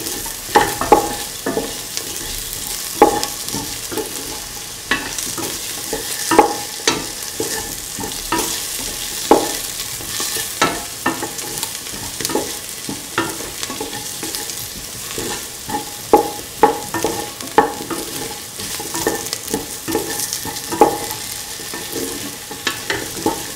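Potatoes stirred with cauliflower rice ingredients in a frying pan: loud, close sizzling under repeated scraping and clattering strokes of a utensil at an irregular rhythm, no talking.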